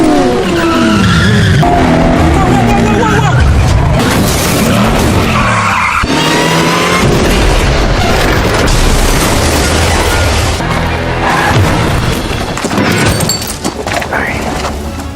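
A film car chase roars along with screeching, skidding tires, racing engines and heavy crashing impacts ending in a wreck, loud and dense throughout with music and voices mixed underneath.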